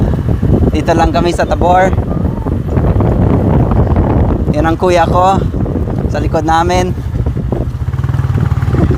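Filipino riders chatting on a motorcycle in Tabor, Pangasinan, with constant low engine rumble and heavy wind buffeting the microphone throughout, voices talking over the steady roar.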